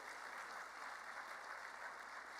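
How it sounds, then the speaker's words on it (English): Audience applauding at an annual dinner, a dense, steady wash of clapping from many hands throughout, heard alone without speech. "Let's give them a round of applause again tonight."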